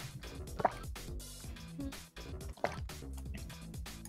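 Beer pours with a close, wet trickle and a few drips under ongoing talk during an Among Us game chat.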